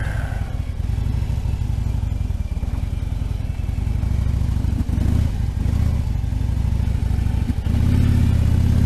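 A motorcycle engine running rough on a foggy day, a loud continuous low rumble with uneven revs and clattery pulses, close up under wind noise with no talk.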